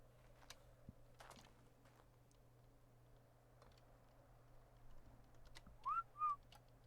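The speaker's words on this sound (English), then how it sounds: "Did you hear my whistle from up there or not?" In ARK: Survival Evolved, two short rising whistle notes sound near the end over a quiet background with faint ticks and footsteps.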